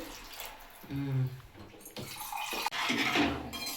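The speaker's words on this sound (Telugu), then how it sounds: "ఇప్పుడు వాటర్ వేసుకోవాలి దీంట్లో." Water poured into a simmering potato curry for puri, a broad rushing splash in several bursts close by, with a voice briefly heard partway through.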